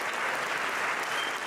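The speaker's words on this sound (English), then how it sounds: "Let's take one more moment to congratulate our honorees with a final round of applause for our outstanding Temple alumni." An awards celebration audience honoring outstanding Temple alumni breaks into dense, continuous applause, brief and steady at full strength.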